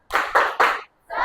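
A school class doing a rhythmic spirit clap together, three sharp group claps in quick succession, a brief pause, then a fourth burst, close and loud.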